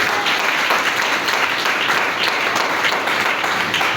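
A church congregation applauding during a French-language worship service, loud continuous clapping from many hands with a faint crowd murmur, steady throughout.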